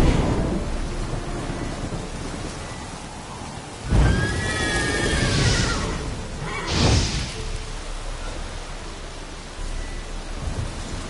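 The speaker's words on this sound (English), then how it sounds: "A storm, damn it." A thunderstorm in The Witcher 3 video game brings steady, dense rain with two loud rolling thunderclaps, each swelling and fading over a couple of seconds.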